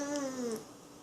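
A voice imitates a cat's meow: one drawn-out, falling, tonal call, close and fairly quiet, that fades away after about half a second.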